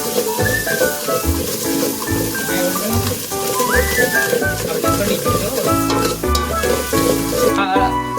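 Salt being stirred into boiled urad dal in a home kitchen, a soft wet stirring and light sizzle at close range, with birds chirping faintly in the background.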